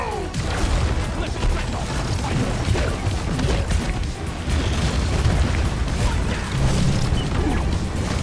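Explosions and crashing blasts in the video game Deep Rock Galactic, loud and dense with layered booms and debris noise continuing throughout.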